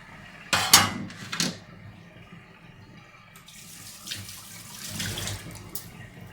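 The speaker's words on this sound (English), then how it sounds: "So what I'm going to do now is quickly wash this tray up" Water runs into a kitchen sink as a tray is rinsed under the tap, with a couple of louder splashing bursts early on, then a steady running stream and light clatter close by.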